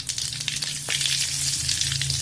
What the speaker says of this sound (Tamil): தாளிக்கிறதுக்கு எண்ணெய், அதுக்கு கடுகு போட்டுக்கிட்டோம்.